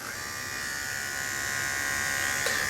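A steady electric buzzing hum from a Wahl Arco SE hair clipper runs continuously at close range, an even motor drone with a slight rise in pitch near the end after oil is added to the blade.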